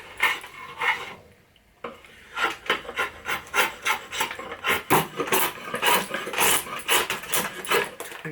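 Quick, rhythmic rasping strokes of a hand tool shaving yew for an English warbow, close and scratchy, starting after a brief quiet gap.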